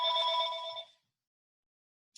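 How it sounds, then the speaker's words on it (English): A telephone bell rings once for about a second, bright and trilling, then silence before the start of another ring at the end. "stop the phone from ringing."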